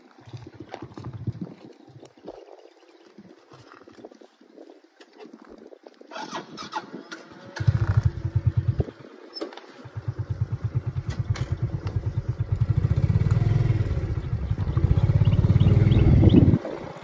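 Motorcycle riding along a road through wide rice fields, the engine starting quiet and faint, then rising into a steady, louder drone that holds near and constant toward the end, with no talking over it.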